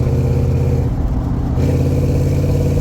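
LT1-swapped Jeep YJ engine drones steadily at low revs while driving, a loud, even hum with no voices.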